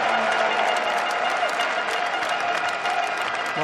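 A German crowd at an indoor hockey World Cup match applauds and cheers continuously across the arena, a dense wash of clapping with a commentator's voice running over it.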